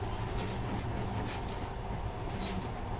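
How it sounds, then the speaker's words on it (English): Monorail train in the Metro Last Light video game running steadily through a tunnel, a continuous loud rumbling drone with faint rail clatter throughout and no speech. "In the past, trains were ordinary things, but now, this monorail seems magic, doesn't it?"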